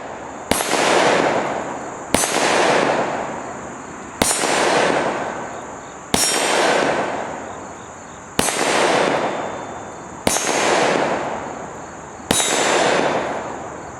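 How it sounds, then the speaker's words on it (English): A CZ52 pistol fires Tokarev rounds at a steel target, seven loud sharp shots spaced about two seconds apart, each shot followed by a bright ringing clang and a decaying echo. "Watch closely, you're going to see the bullet strikes on the Evil Roy target."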